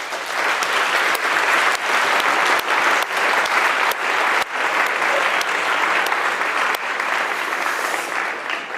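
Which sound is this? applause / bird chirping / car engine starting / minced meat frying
applause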